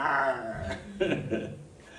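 A voice imitating village dogs growling and snarling as they fight over food scraps, a short burst of rough, throaty growls close to the microphone.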